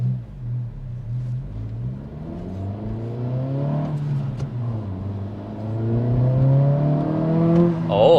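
Upgraded exhaust on a 2023 Acura Integra A-Spec with performance parts, heard from inside as the engine drones and rises in pitch through acceleration, a steady growling whir climbing in loudness toward the end.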